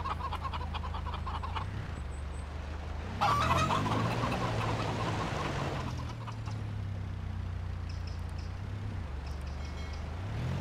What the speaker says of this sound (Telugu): ఇక్కడ చూడండి కోళ్ళు కూడా ఉన్నాయి